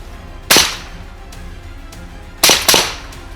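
Sharp sniper rifle shots crack out at a frontline position near Kupiansk: one, then a quick pair two seconds later, with fainter distant reports between them.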